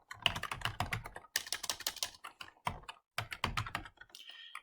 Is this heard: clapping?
no